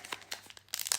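A pack of Earthworm Jim trading cards torn open by hand: a quick series of crinkly foil and paper rips, close up, with no voices.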